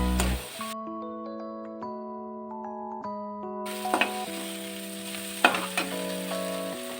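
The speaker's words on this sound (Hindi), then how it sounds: "अब हम इसको अच्छे से फ्राई करेंगे हाई पर रखकर" Okra fries over high heat in a pan, a hissing sizzle with occasional stirring knocks, set under melodic background music that briefly plays almost alone before the frying noise returns.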